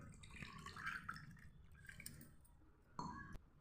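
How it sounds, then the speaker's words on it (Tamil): A glass of water goes into a mango drink, giving faint, close liquid splashes and drips in a few short bursts over a quiet kitchen background. "ஒரு கிளாஸ் தண்ணி சேர்த்துக்கலாம்."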